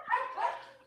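A dog gives a couple of short, soft barks or yips, fairly faint and somewhat distant, heard alone without talk.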